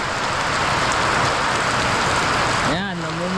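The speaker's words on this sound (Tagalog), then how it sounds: "Talagang sobrang lakas na ng ulan." Very heavy rain pours down steadily, a dense loud hiss of drops drumming on surfaces, with a voice briefly speaking near the end.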